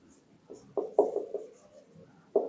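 Chalk or pen strokes during a calculus integration lecture, a few short scratchy marks in quick bursts, close and fairly quiet with no talk over them.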